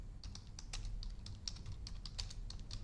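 Keys clatter on a computer keyboard as a return reason is typed into point-of-sale software, a quick irregular run of close, crisp taps with no talking.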